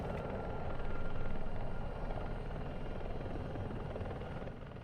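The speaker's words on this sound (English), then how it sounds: "That's Laxor there in the chopper" A helicopter in the DCS flight simulator game flies steadily with a continuous rotor thrum and engine whine, loud and constant throughout with no talking.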